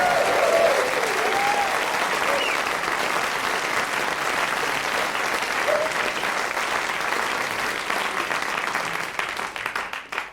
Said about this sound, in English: another big round of applause for Lawrence Camley